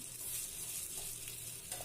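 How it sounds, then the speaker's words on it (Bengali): Noodle batter spread in an oiled non-stick frying pan, giving a soft, continuous sizzle that stays even and faint throughout, with no voices. "নুডলসের ব্যাটারটা দিয়ে দিলাম"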